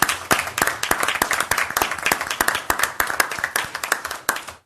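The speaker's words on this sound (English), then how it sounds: "Round of applause for the city staff, please." A small group claps for city staff during a city council meeting in La Verne, close and fairly loud, with distinct individual claps in an uneven rhythm that build and then fade near the end.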